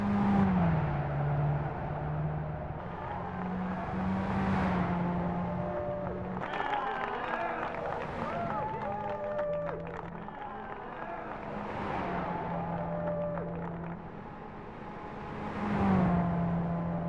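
A 1964 Ginetta G4 lightweight sports car in Gran Turismo 5, its engine swelling and dropping through repeated revs and gear changes, moderately loud under a steady layer of narration.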